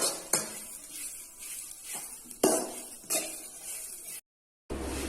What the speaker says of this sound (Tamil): ஃபர்ஸ்ட் ஒரு பெரிய எண்ணெய் சட்டியில இந்த தேங்காய் துருவலை போட்டு நல்லா வறுத்துக்கலாம்.